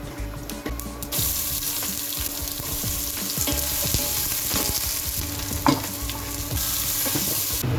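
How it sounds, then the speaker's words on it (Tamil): Onion, chili and chickpeas crackle and sizzle while tempering in a pan, with a continuous frying hiss and scattered pops and stirring clicks, recorded up close in a home kitchen in Jaffna. "வெங்காயம் மிளகாய் தாளிச்சிட்டுது. கடலையும் தாளிச்சாச்சு."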